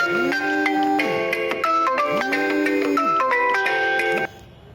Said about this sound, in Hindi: फोन आ गया था।